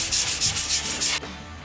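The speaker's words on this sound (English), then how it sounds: "So I'm gonna hit it with some 220 grit sandpaper" Sanding concrete by hand with 220 grit sandpaper makes a loud, close scratchy rasp in steady back-and-forth strokes, about seven rhythmic passes, then stops abruptly into quiet room tone.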